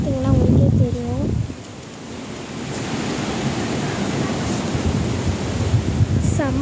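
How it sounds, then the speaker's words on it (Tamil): Strong outdoor wind buffets the microphone in a steady loud rushing roar, with a person speaking over it at the start. "செம்ம காற்று, செம்மையான காற்று."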